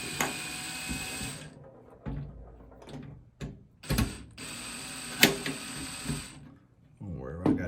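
A DeWalt power drill on a low setting drives screws into a PC case, giving short bursts of mechanical whirring and clicking separated by pauses, with someone talking in between.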